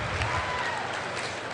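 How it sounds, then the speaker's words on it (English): A large crowd at a Blizzard World of Warcraft event show applauding in a dense, steady wash of clapping that fills the hall without a break. "Give yourselves a round of applause"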